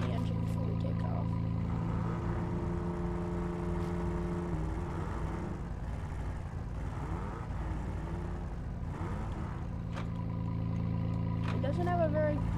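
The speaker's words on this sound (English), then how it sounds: "we're gonna rev the engine before we take off." A Chevy Colorado truck engine in the SnowRunner video game, a steady droning rumble with tonal harmonics that shift in pitch as it revs, running continuously while a person talks over it.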